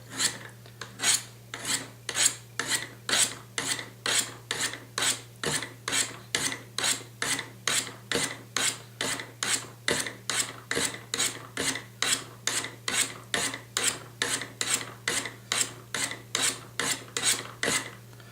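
Steady, rhythmic rasping strokes of a knife blade on ceramic sharpening rods of a Spyderco Sharpmaker, dozens in a row at an even pace, close and clear over a low constant hum.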